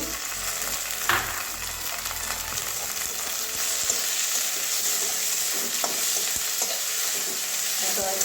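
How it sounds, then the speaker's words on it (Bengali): Chopped tomato frying in a pan for a soybean and cauliflower curry, a steady loud sizzle running throughout with occasional stirring scrapes, close up and with no talk. "টমেটো কুচি দিয়ে দিচ্ছি"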